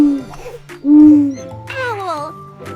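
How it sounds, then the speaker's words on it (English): A cartoonish owl hoot, a drawn-out tonal call repeated a few times with rising and falling pitch, loud and close, set among the bright sounds of a children's animal learning video. "Owl."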